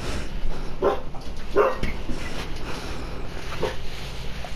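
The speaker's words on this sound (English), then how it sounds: "my dogs are barking" Several dogs bark in bursts, a few sharp woofs spaced out over a steady background hiss, fairly close, in the video game WWE 2K22.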